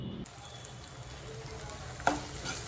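Onion and tomato frying in oil for a tempering, a steady soft sizzle with one sharp crackling burst partway through, close and alone.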